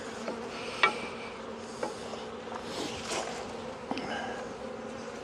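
Honeybees buzz steadily at a wintering hive fitted with a candy board in Connecticut, a dense close drone of many insects with a few sharper passes and clicks, no voices.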